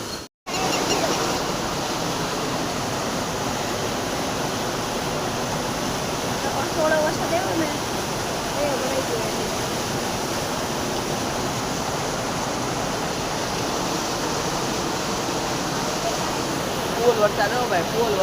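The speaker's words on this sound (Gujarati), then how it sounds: "ફૂલ વરસાદ હો ભાઈ, ફૂલ વરસાદ કેરાડી" Heavy rain pours down in Kerala, a dense, continuous broadband hiss like rushing water that holds steady for the whole stretch, close and loud, with no voices over it.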